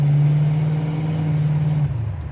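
A 1969 Chevelle engine idles with a steady low hum and smooth, even rhythm, close and fairly loud, dropping slightly in pitch near the end.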